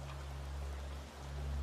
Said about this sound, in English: the lullaby of rain continues